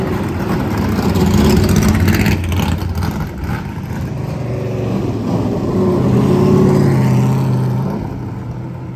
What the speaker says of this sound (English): Here comes the Jeff Gordon car, Tony Stewart car.